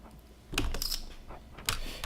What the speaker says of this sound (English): I'm gonna try talking as I type now